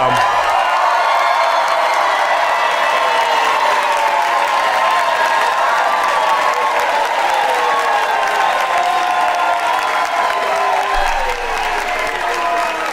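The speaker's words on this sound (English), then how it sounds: "Why would y'all start clapping?" Dense, steady applause and clapping from a livestream audience fill the clip without a break, mixed with crowd noise, a few whoops and cheers, and scattered voices underneath.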